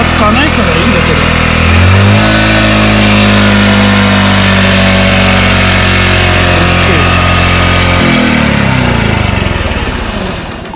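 A Honda CB motorcycle with a faulty carburetor revs loudly and close, its engine note rising around two seconds, holding a rough uneven drone, then dropping back near eight seconds before fading.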